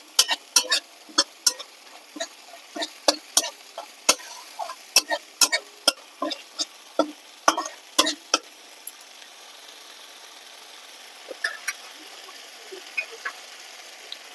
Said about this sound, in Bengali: ভালো করে নেড়ে চেড়ে নেব। একটু কষাতে হবে।